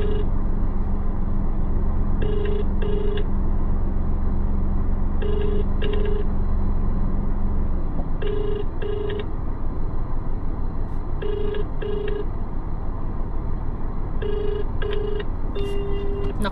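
A phone call rings out unanswered over a car speaker inside a delivery hatchback, its repeating double-tone ringback pattern sounding about every three seconds over a steady low engine and road hum.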